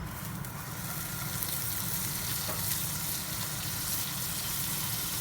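Butter sizzles in a pan before mushrooms and onions go in, a steady, even hiss that holds without pause at moderate level, close by, with no voices.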